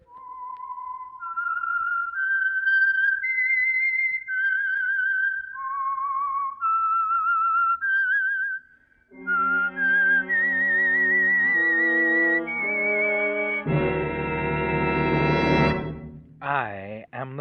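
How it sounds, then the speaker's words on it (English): A whistled melody signals the Signal Oil radio program The Whistler: a lone clear whistle traces a wandering tune, then an orchestra swells in beneath it, building to a loud, dense climax before cutting off. "That whistle is your signal for the Signal Oil program, The Whistler."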